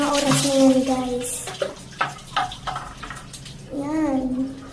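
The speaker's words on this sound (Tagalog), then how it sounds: "Ayan, magbubuhos na ako." Water is poured over a body during a night-time bath, splashing and rushing in short bursts close by, while a voice talks over and between the pours.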